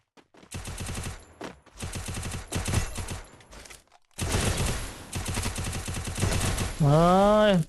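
UMP submachine gun fire in the mobile battle game Free Fire during a 1v1 match, several rapid loud bursts separated by short pauses, followed by a rising musical effect.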